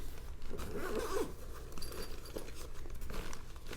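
The zipper of a Devos LightRanger 2000 telescoping LED lantern's bag is pulled open in a few quick, rasping strokes, close up, with light rustling of fabric around it.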